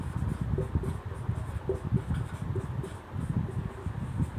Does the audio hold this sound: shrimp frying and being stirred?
no